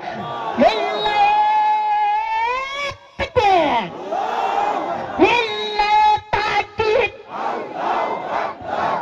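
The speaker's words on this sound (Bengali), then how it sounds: "নবীর আদর্শ নিয়ে কে কে ওয়াজ শুনবেন একটু চিল্লা হাত তুলে আল্লাহকে তাকবীর দিবেন।" Crowd at an Islamic sermon shouting takbir in loud, sustained collective cries, several swelling waves of massed voices broken by short gaps, close and energetic.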